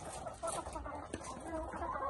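Farm chickens clucking faintly in the background, with soft scattered clucks over low ambient noise and a voice speaking nearby.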